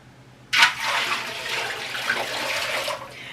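Water from a tap rushes into a pressure canner for home canning. It is a steady, hissing pour that starts abruptly and runs for a few seconds before cutting off.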